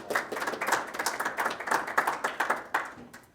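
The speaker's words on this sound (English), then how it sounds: "please give him a nice round of applause" Audience at a Kiwanis Club evening meeting gives a warm round of applause, a steady patter of many clapping hands lasting a few seconds before fading.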